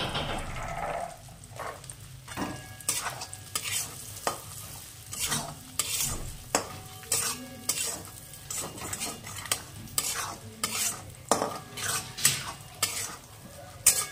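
Fried spices and green peas are stirred in a pan for Bengali-style vegetable bhuna khichuri. A spoon scrapes and clinks against the metal in repeated strokes over a steady low sizzle.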